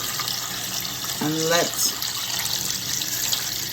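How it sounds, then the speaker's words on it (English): Water pours and splashes steadily into a pot for turkey broth in a home kitchen, a close continuous stream running under a brief spoken remark. "I am going to now pour in my water."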